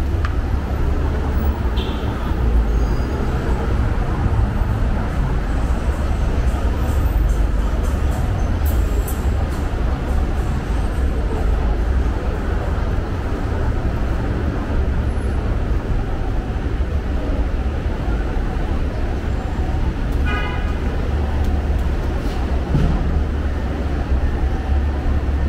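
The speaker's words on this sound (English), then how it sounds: "We got the trains above here." Continuous heavy rumble of elevated trains passing overhead on a main street at Coney Island, New York, loud and steady with metallic squeals and clatter mixed into the urban din.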